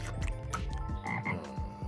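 A toad croaks in a quick series of rough, repeated pulses against a steady tonal background, fairly quiet and with no talking.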